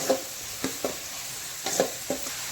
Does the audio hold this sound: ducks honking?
no